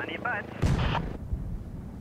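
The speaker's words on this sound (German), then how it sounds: "This cannon was actually built to fire humans." A cannon in the Henry Stickmin video game fires with one sudden, loud blast that booms and fades quickly, just after a brief synthetic chirping sound effect.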